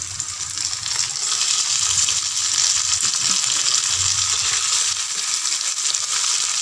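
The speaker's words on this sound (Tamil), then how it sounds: "இது கொஞ்ச நேரம் வதங்கட்டும்" Onions and vegetables for Tamil empty salna sauté in a pan with a steady, even sizzling hiss that holds at one level throughout, with no talking.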